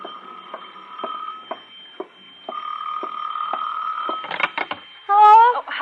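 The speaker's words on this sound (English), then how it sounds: "It was 5 minutes to 6 when the phone rang again." An old telephone rings in a house, repeated bursts of a trilling bell with pauses between them, then a brief clatter as a voice begins to speak.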